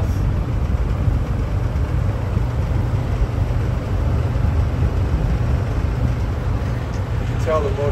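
A 1980s Emerson whole house fan with a motor in need of cleaning runs at a steady, loud, low hum and rumble throughout, with no breaks.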